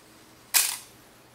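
The shutter of a Nikon F film camera fires once, a crisp single mechanical snap with a short decaying tail in a quiet room.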